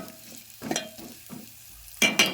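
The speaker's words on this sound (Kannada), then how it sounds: "ಈಗ ಇವ ಉಳ್ಳಾಗಡ್ಡಿ ಮೆಣಸಿನ್ಕಾಯಿ ಫ್ರೈ ಆಗ್ಬೇಕ್ರಿ" Onions and green chillies fry in a pan with a low steady sizzle, broken by a few scraping stirs and a louder clatter near the end; no one speaks.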